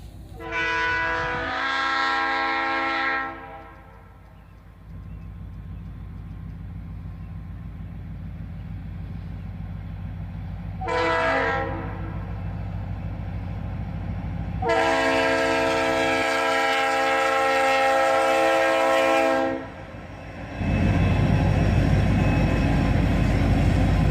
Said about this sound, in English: A single SD40-2 leads this one out of town.